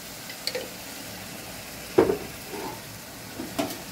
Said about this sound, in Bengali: দিয়ে এটা নেড়ে নিলাম।